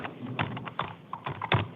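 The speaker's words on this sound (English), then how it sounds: "He's a loud typer." Someone types forcefully on a computer keyboard in a courtroom, producing clustered, uneven bursts of sharp key clacks with short pauses between, close and fairly loud in a quiet room.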